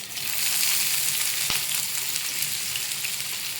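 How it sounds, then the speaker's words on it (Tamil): Mustard seeds and onion sizzle in hot oil in a pan for egg thokku, a dense steady crackling fry close up, with one sharp tick midway and no voices. "நம்ம போட்ட கடுகெல்லாம் வந்து பொரிஞ்சிருச்சு."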